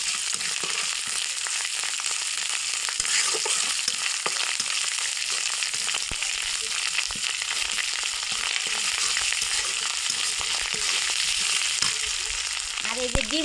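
Malabar spinach (pui) leaves fry in a pan for an egg dish, a continuous close sizzle with occasional stirring clatters and scrapes against the pan.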